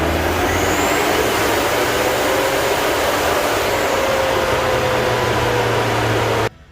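Mitsubishi Delica engine roaring steadily at full load on a dynamometer run, a loud continuous drone with a rising whine, ending abruptly as the pull cuts off.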